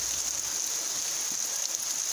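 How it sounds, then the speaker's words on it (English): Rain falls steadily outside a house, a constant soft hiss with no pauses or other sounds. "We need the rain though."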